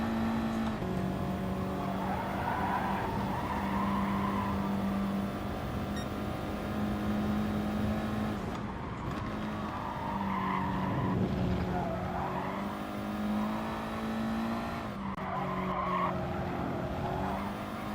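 Race car in GT Sport at the Lago Maggiore circuit, a continuous engine whine holding steady with brief dips and shifts, tires squealing through corners, loud and close the whole way.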